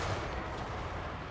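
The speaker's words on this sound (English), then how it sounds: "The flame cannons are pretty brutal when it comes to friendly fire." Flame cannons on Thunder Barges fire in a Total War Warhammer 3 battle, producing a dense, loud roar of booming blasts that blur into continuous rumbling chaos.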